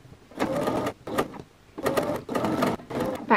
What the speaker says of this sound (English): I am just sewing a line of straight stitches along here